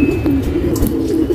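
A female pigeon coos softly and close by, a low steady murmur, with faint background noise.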